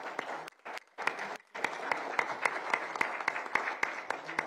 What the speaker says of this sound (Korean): 저희가 박수하는 것으로 오늘 관훈 토론을